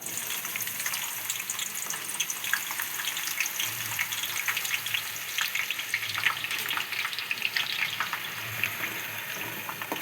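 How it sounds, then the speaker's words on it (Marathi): Chopped onions frying in hot oil in a kadai for chicken biryani, a steady dense sizzle and crackle running throughout at close range with no talking. "आता आपण हे चिरलेले कांदे त्यामध्ये तळून घेऊया"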